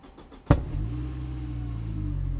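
A worn Saab 9-3 rescued from the scrapyard cranks and fires up with one abrupt starting burst, then settles into a steady, close engine run with a low rumble.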